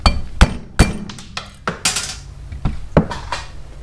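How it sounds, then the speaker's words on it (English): Metal hammer blows ring out against a socket while removing valves from the rear cylinder head of a 1984 Shadow 500 motorcycle, about eight sharp clanks in an uneven rhythm, close and fairly loud with brief gaps between. "I'm going to take a socket, hammer."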